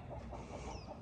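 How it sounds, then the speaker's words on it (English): Chickens cluck softly at a farm in Bilpin, a few faint calls sitting within steady outdoor background noise. "Look, mom, hi, little chicken."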